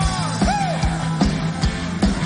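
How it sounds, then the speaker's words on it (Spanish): A church congregation yells and whoops together in a loud, reverberant hall, with overlapping cries rising in short bursts. "Pues dale un grito de júbilo."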